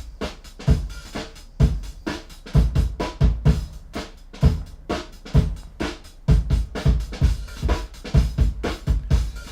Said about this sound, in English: when you're slamming your console super hard